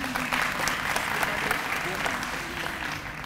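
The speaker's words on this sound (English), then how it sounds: "please feel free to applaud" Audience applause at a college honors and awards ceremony, a steady wash of many hands clapping at full strength that tapers slightly toward the end, with no talk over it.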